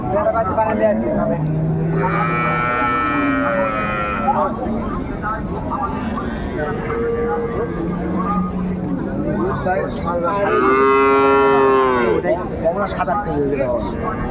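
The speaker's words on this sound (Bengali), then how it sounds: "গাভি বাছুর আমরা দেখছিলাম" Dairy cows and calves at the Raniganj cattle market in Dinajpur low from close by in two long drawn-out calls, one early and one near the end, over steady crowd babble and talk.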